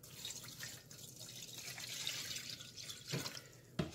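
Water pouring over yeast in a bowl for whole wheat bread dough, a soft running splash with a couple of louder drips near the end.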